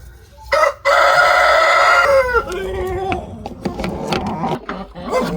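Rooster crowing loudly and close in one long call, followed by scattered hen clucks and cackles from a farmyard flock, the calls irregular and overlapping.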